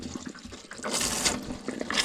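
Water running from a tap in a motorhome, a soft splashing hiss that surges and sputters over about two seconds, fairly quiet and close, with no voices.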